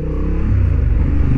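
A Honda Hornet 750 motorcycle pulling away in first gear gives a loud, close, deep engine rumble with a throbbing pulse, rising steadily over the brief moment.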